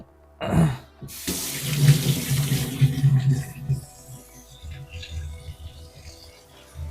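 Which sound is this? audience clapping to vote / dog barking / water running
water running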